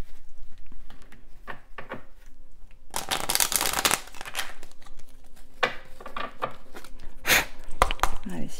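Tarot cards shuffled by hand in a quiet room, a dense burst of riffling and patter near the mic from about three seconds in, with scattered shorter card slaps and flicks before and after.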